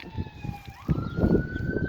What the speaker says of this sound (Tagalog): Parang may dumaan na ambulansya.